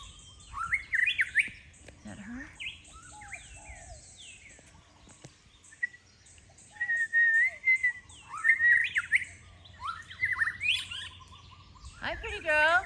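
A white-rumped shama calls nearby in clear, varied whistles, trills and chirps, with bursts of song separated by short pauses and a brief spoken remark between phrases.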